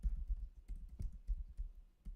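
Soft, rapid clicking of keys on a newly bought computer keyboard, irregular typing bursts heard close and quiet with no talking.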